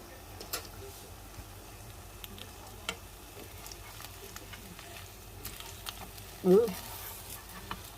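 Slices of pain perdu soaked in egg and milk frying in butter in a pan, a faint, quiet sizzle sprinkled with small ticks and pops, with a brief voice near the end.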